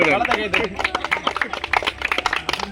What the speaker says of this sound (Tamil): வளர்த்த கைத்தட்டு